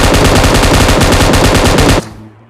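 An enemy's sustained automatic gunfire in the PUBG Mobile video game on the Erangel map, a loud continuous rattle of rapid shots that stops abruptly near the end, leaving a faint tail.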